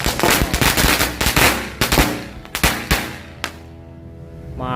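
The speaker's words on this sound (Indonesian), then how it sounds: "Yang selanjutnya kita nyalakan 2 pak mercon color smoke 2 kali bank." Color smoke firecrackers going off after being lit: a rapid, loud string of crackling bangs with uneven rhythm, thinning out toward the end before a short tonal sound rises.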